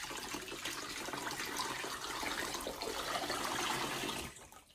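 Lye water poured and stirred into oils for turmeric soap, a continuous liquid splashing and swishing that holds steady for several seconds, then cuts off abruptly near the end, with no talking.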